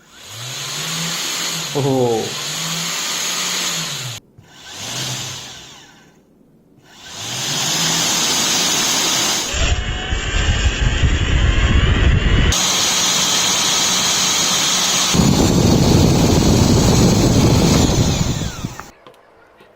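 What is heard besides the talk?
vacuum cleaner motor spinning an impeller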